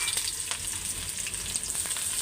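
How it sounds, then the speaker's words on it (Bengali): Chickpeas fry in a hot tempering of oil, giving a steady, close, loud sizzle and crackle with faint stirring and no talking. "এই যে বুটটা এখন বাগার দিয়ে নেই, ইফতারি বানাবো।"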